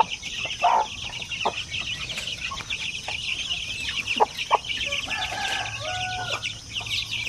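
Basilan chickens, the parent stock of a native breed, clucking in a farm setting, with several short cluck calls scattered over a steady background of insects and ambient noise.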